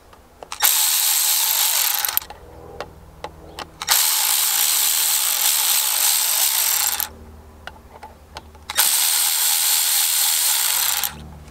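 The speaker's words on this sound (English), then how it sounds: "I just gotta take these 3 Allen head screws out and wiggle this thing up." Cordless ratchet tool backing out three Allen head screws on a Honda S2000 shifter, heard as three long, loud, steady whirring bursts with brief quiet gaps and small clicks between them.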